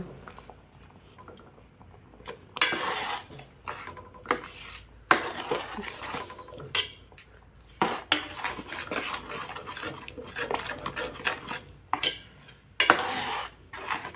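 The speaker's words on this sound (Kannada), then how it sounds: "ಒಂದು ಸಲ ಮಿಕ್ಸ್ ಮಾಡಿಕೊಳ್ಳುವ" A spoon stirs a thick, bubbling curry seasoned with rock salt in a metal pot, making repeated scraping and clanking bursts over a quiet simmer, close up and with no talk.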